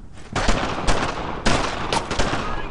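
Heavy WWII-era gunfire in Brothers in Arms: Road to Hill 30, loud overlapping rifle and machine-gun bursts coming in several close, rapid volleys with barely any pause.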